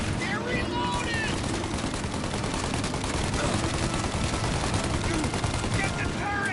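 Dense gunfire in a shootout in the crime game Mafia Definitive Edition, continuous rapid bursts blending into a loud, steady roar of shots with brief shouted voices over it.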